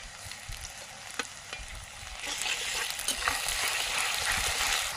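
Ginger and garlic sizzle in a pan with frying onions, stirred with soft scraping clicks, and the frying grows louder partway through, heard close with no talk.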